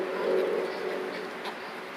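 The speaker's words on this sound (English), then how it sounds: "Whoa, a lot of birds." A flock of pigeons gathered near the water, cooing close by in a steady murmur with a few brief chirps, no talking.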